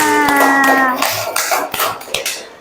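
A class applauds a student who answered correctly, with a burst of many hands clapping that starts loud and thins into scattered claps, following a brief tonal sound at the start.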